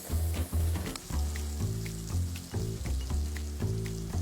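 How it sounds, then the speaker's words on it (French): Salted Lurpak butter melts and sizzles in a hot pan, a steady bright crackle running under loud background music with no voices. "faire fondre le beurre, donc 50 g de beurre Leurpack salé"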